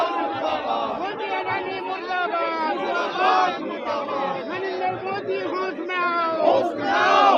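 A dense protest crowd at barricades in Jharkhand shouts and chants continuously, many voices overlapping in loud, rising cries that stay close and constant throughout.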